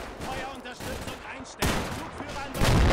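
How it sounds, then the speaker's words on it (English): Sustained gunfire and artillery from the tactical wargame Combat Mission: Red Thunder, a dense continuous barrage with heavy bursts swelling louder toward the end, no voices over it. "They're firing for 4 minutes now."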